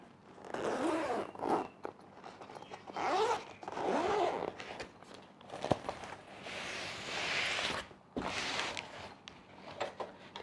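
A zipper being opened on the carrying case of an LED video light, several separate pulls with short pauses between them, close and fairly quiet, with light handling rustle.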